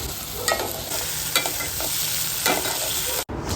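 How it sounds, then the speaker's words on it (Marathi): Onion, green chilies and tomatoes sautéing in a pan, a steady close sizzle with scraping stir strokes at intervals, ending in a brief gap. "कांदा हलका परतून झाल्यावर त्याच्यामध्ये आपल्याला मिरची आणि टोमॅटो घालून घ्यायचं आहे आणि ते सुद्धा परतून घ्यायचं आहे"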